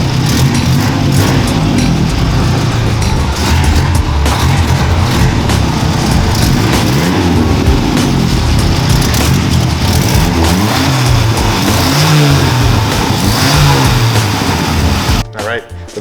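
A turbocharged Chevy LUV pickup engine revs hard and loud for a long stretch, the pitch rising and falling through several pulls before cutting off near the end, with people talking over it.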